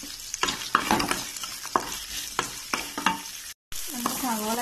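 Sliced onions sizzle and fry in a pan while being stirred for a kappa (tapioca) dish, with soft intermittent scraping strokes of a spoon over a steady close sizzle.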